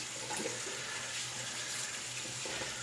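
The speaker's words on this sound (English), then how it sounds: "I'll get the brush rinsed out." A shaving brush is rinsed under a running tap, giving a steady close rush of water with faint splashing, and no voices.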